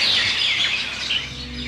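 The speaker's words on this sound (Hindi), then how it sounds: "पंछी घबरा गए।" Birds chirp and call in alarm after gunshots echo through a valley. The calls are dense, overlapping and fairly loud, with no talk over them.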